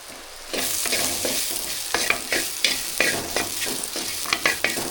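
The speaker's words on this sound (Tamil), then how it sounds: "நல்லா கலந்து விட்டுக்கலாம்" Jackfruit stir-fry being stirred in a hot pan, a steady close sizzle broken by repeated scraping strokes of a spoon against the metal, with no talking.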